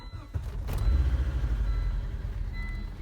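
A 1998 Volvo V70 engine cranks and catches, then settles into a steady low rumbling idle close by, with faint voices in the background.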